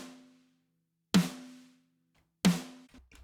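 Two snare drum hits from mixed drum samples with phase adjustment, each a sharp crack with a ringing tail, spaced about a second apart and close, with a faint lingering tone before the first hit.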